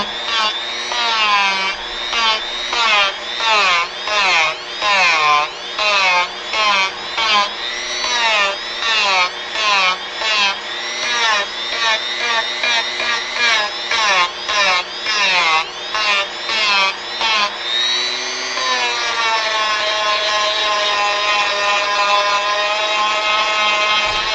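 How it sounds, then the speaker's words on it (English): A rotary power tool carving wood at high speed whines in a pulsing pattern of repeated bursts, then settles into a steady higher whine near the end. "If you don't go high enough RPM, it gets the wood and it just slows down and doesn't want to do anything after that."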